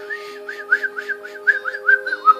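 Whistled chirps in a quick series of about a dozen short rising-and-falling notes, close and clear over a steady low hum, with no speech.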